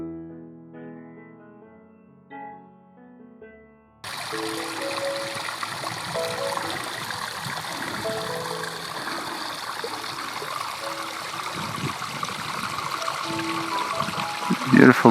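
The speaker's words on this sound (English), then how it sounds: "Beautiful brook" A forest brook near Zurich flows and trickles continuously nearby, a steady watery rush that starts abruptly after a few seconds of soft music.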